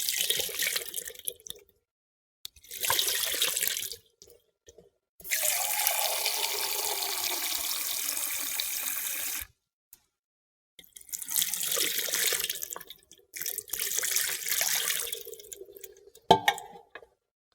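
Water poured over hands for ritual hand washing before bread, running in several separate bursts of a few seconds each, close and fairly loud, with a small clink near the end.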